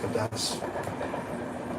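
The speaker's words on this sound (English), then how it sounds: "there's the train passing, just in case you're wondering what that racket is" A train passing nearby, a loud, steady rumbling roar with faint rattling throughout, and someone briefly speaking over it.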